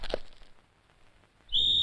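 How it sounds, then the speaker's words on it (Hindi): A sharp, high whistle blown by a man in a comedy scene, starting suddenly near the end as one loud, steady note after muffled rustling and a brief clatter. "मेरे बाप ने सीटी बजा दी है।"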